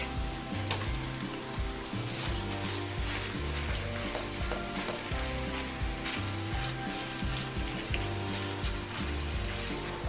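Minced meat fries with onion and garlic in oil in a hot pan, giving a steady, dense sizzle with crackles and scraping stirs throughout, fairly close and alone.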